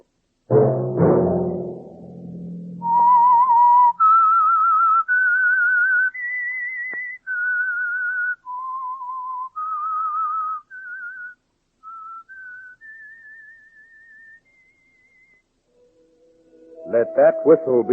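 The Whistler radio program theme, a lone whistled melody of clear sustained notes rising and falling, preceded by a short burst of orchestral sound and ending as music swells back in.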